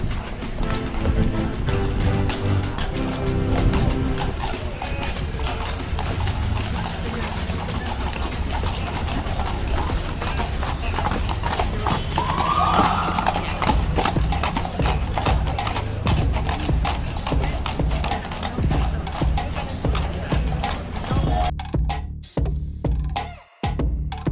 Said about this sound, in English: we also witnessed the cavalcade of the royal family of Malta, which was a mix of horses and vintage cars